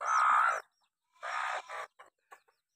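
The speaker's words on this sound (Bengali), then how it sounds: "এখানে উপরে আছে একটা মুরগা, একটা মুরগি।" A rooster and hens kept at a house in India let out loud, close clucking calls: one long squawk, then a burst and a few short trailing clucks with pauses between.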